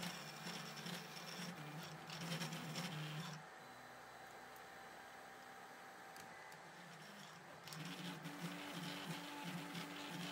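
A 3D printer with a direct pellet extruder running at 30 mm/s, its weak mechanics showing, gives a steady whirring machine hum with a continuous drone and faint ticking. It grows quieter in the middle stretch, then louder again.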